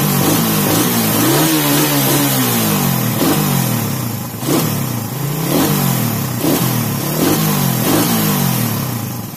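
A motor engine, worked on in a sanding-and-tuning tutorial, revs repeatedly as the throttle is blipped, with rising and falling pitch sweeps over a steady loud idle, close to the microphone.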